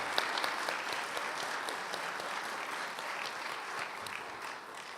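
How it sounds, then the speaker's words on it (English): Audience applause at a Silver Life Awards ceremony during an MLK Day celebration, a steady wash of clapping from a sizeable crowd, sustained and even throughout before tapering slightly at the end. "Let's once again applaud all four of our recipients of their Silver Life Awards."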